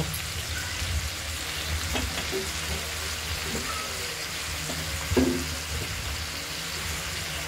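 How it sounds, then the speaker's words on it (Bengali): Potatoes fry in hot oil in a kadai already seasoned with bay leaf, dried red chilli and cumin, giving a steady close sizzle with a few louder spits and stirring clinks, no voices. "আলুগুলো দেখুন ভাজা হচ্ছে, হালকা হলুদ করে ভেজে নেব।"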